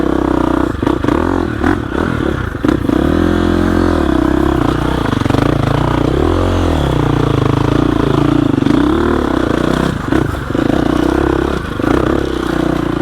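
A 2021 GasGas EX 350F dirt bike engine pulls steadily in second gear with no clutch, a loud, close, continuous four-stroke drone that rises and falls with throttle changes, with clattering chassis noise and no talking.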